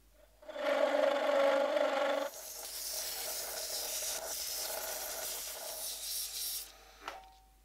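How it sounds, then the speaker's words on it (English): An epoxy resin screwdriver handle is sanded on a lathe, with a loud, steady abrasive rasp for a couple of seconds and then a softer, hissing friction that continues before stopping. "I've been sanding for about 10 minutes now."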